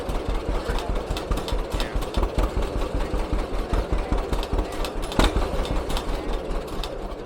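Seventy-one-year-old John Deere tractor at a farm equipment auction, its old engine turning over hard, then chugging in a steady rapid knocking idle, fairly close and continuous.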